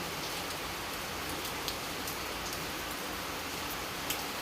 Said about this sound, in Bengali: আজকে বৃষ্টি পড়ছে, কি অবস্থা।